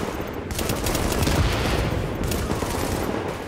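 Rapid automatic gunfire from The Division, loud and close, forms a continuous rattling burst that lasts the whole moment.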